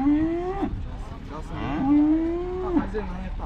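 Cattle at a livestock market moo in two long, drawn-out calls, loud and close, with a low crowd murmur underneath.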